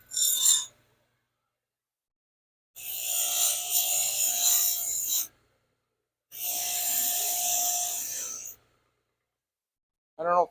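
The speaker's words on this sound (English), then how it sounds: "1-horse bench grinder" A 1-horsepower bench grinder makes two harsh, hissing bursts of a few seconds each, separated by silence, with a short clipped sound at the start and end.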